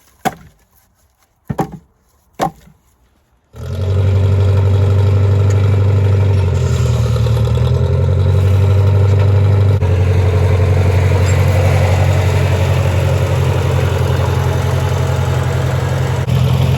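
A Massey 50 tractor engine starts after a few sharp knocks and settles into a loud, steady low idle close by, running continuously with a slight dip in pitch partway through.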